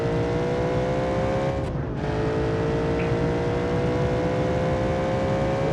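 A car's engine in BeamNG.drive drones at high, steady revs under a nitrous boost, with a sustained loud tone and a brief dip in pitch before it climbs again.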